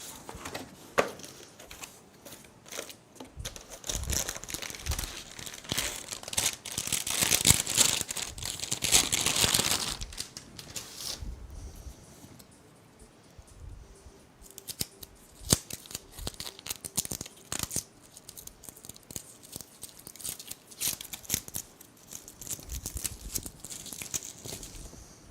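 Cellophane wrapping is cut and torn off PC components, with crinkling, rustling and sharp tearing sounds coming in irregular bursts, loudest early on and then continuing as lighter crackles and snips close by.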